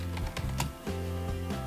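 Typing on a computer keyboard: a quick run of close, crisp key clicks in an uneven rhythm over a steady background hum.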